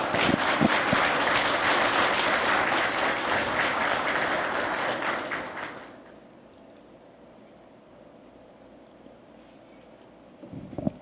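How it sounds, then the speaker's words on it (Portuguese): An audience at a public hearing applauds the elected mayor, loud dense clapping for about six seconds that then fades away into a quiet room. "Peço uma salva de palmas"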